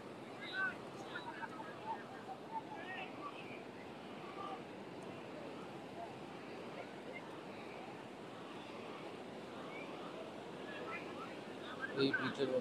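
Ocean waves wash in at high tide on Inani Beach in Cox's Bazar, a steady broad surf roar with wind buffeting the microphone throughout and a slightly louder surge near the end.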